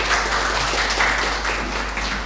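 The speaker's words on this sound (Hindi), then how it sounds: "सर के सम्मान में एक बार जोरदार तालियां बजाइए।" Audience applause at a Jyotiba Phule birth anniversary event in Kurukshetra, a steady dense wash of clapping from a crowd, moderately loud and continuous throughout with no talk over it.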